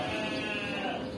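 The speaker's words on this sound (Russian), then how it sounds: "Различные козлики бэкают." A single drawn-out bleat from a goat among farm livestock, loud and near, heard alone.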